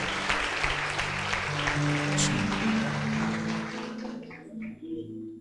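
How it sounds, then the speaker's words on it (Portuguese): A church congregation claps steadily for several seconds, the applause thinning out toward the end, with faint voices and a low hum underneath. "Aplauda ao Senhor aí no seu lugar"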